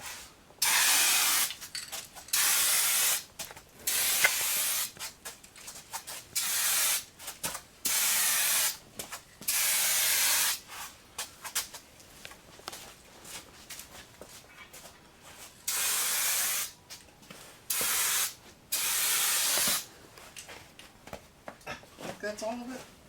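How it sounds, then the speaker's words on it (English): Rust-Oleum Turbo Can rusty metal primer sprayed from an aerosol can onto a 1966 vehicle outdoors in snow, loud hissing bursts of one to two seconds repeated many times with short pauses between. "this is the Rust-Oleum Turbo Can Rusty Metal Primer."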